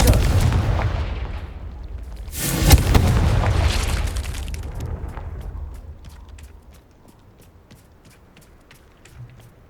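A Confringo blasting spell explodes in Hogwarts Legacy as one big, close boom with a long rumbling tail that trails off into quiet, following a stretch of loud churning noise.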